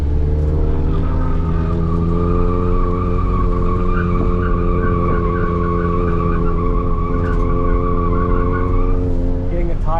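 Car tires squeal and skid continuously on a race track at Thompson Speedway while being warmed up, a loud sustained tonal screech over engine noise that lasts the whole stretch.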